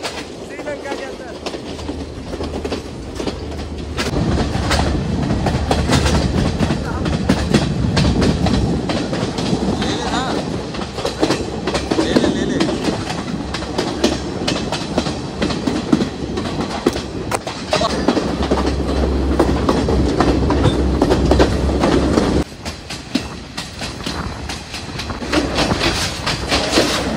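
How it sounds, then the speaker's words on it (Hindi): A passenger train runs through the Sri Lankan hill country on the Ella line, its wheels clattering over rail joints in rhythmic clickety-clack with a rumbling carriage roar, loud and close, while voices talk over it at times. "आप लोग सबसे खूबसूरत ट्रेन जर्नी कर रहे हैं श्रीलंका के अंदर"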